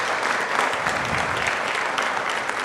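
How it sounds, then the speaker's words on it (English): Sustained applause from a council meeting audience honoring city employees, a dense, steady clatter of clapping that fills the whole stretch without pause. "So round of applause to all the city employees that got involved"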